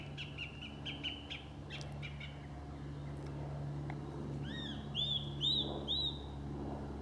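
A thrush sings in a lane in Kent countryside in winter, its clear repeated phrases rising and falling at moderate distance over a steady low background hum, with brief chirps early on and louder looping notes toward the end.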